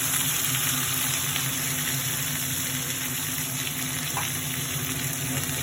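Whole cardamom and cinnamon fry in oil for chicken rezala, giving a steady, even sizzle that runs unbroken and alone under a constant low hum.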